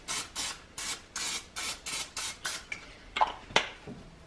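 Olive oil spray hisses in about eight quick, even spurts onto breaded chicken nuggets in an air fryer basket, then a few sharp clinks of metal follow.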